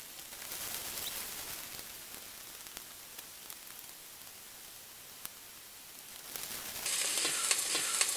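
Onions softening and browning in a pressure cooker pot give off a steady low crackling sizzle with faint ticks throughout. The sound grows louder and brighter toward the end.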